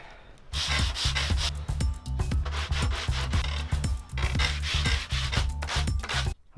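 Steady rhythmic rasping of coarse-grit sandpaper rubbed back and forth by hand over window putty edges on a Victorian sash window, close and continuous.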